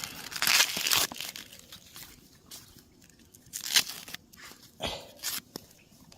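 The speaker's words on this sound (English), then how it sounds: "Take that outer skin off, we don't need that." Outer skin is peeled off food at a campfire during a wilderness walk, heard as close, crisp crinkling and tearing bursts that come in irregular clusters separated by quieter gaps.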